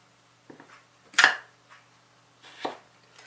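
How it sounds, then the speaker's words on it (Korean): A knife chops potatoes that have been soaking in water, two sharp, close cuts on a board with faint softer taps between them in a quiet kitchen. "물에 담가놓은 감자도 잘라서 다시 찬물에 넣어두시면 됩니다"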